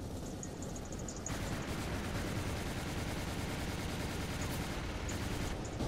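Gun firing in the video game Zombies, Monsters and Robots, a rapid, sustained stream of close, loud shots that grows denser after the first second, with no voices.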